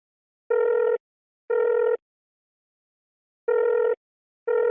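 A phone call rings through while it connects, giving steady electronic tone bursts in pairs with even gaps between them, clear and alone.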